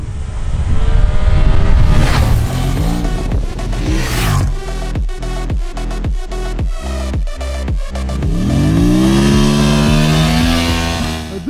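A 2024 Honda Transalp XL750 adventure motorcycle engine under way, loud and close, with revs climbing and dropping through gear changes, a rhythmic series of upshifts mid-ride, then a long steady pull as the engine winds up again.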